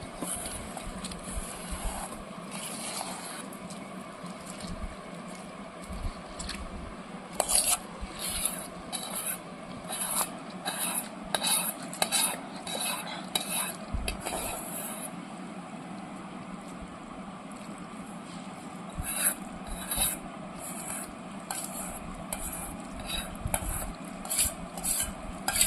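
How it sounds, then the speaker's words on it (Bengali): Boiled potato and cabbage are mashed and mixed together by hand, giving steady, repeated squelching and rubbing strokes that continue at close range with small rhythmic variations. "আমি আলু আর বাঁধাকপি খুব সুন্দর করে একসাথে চটকে মেখে নিয়েছি মিশ্রণটা"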